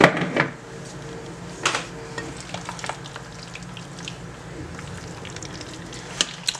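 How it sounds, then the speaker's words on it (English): Garlic powder is stirred gently into a bowl of potato salad, making soft scraping and mixing sounds with a few sharper clinks of the utensil against the bowl. "So now let me gently stir that in."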